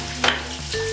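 Shredded pork drops into a hot wok with chilies and Sichuan peppercorns, flaring into a sudden loud sizzle that settles into a steady close crackle as it is stirred.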